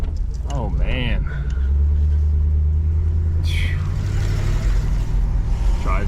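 A 1977 Oldsmobile 98 Regency cruises along with a steady, loud low rumble of engine and road noise, heard from inside the car while people talk over it.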